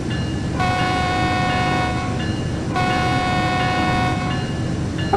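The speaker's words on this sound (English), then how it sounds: "it does sound like there's a bit of reverberation on the horn now" In a Train Sim World 3 freight train at Cajon Pass, a loud multi-tone horn sounds two long blasts over a continuous rumble of rolling rail cars, with slight reverberation and no talking.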